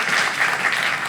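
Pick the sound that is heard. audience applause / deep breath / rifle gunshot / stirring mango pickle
audience applause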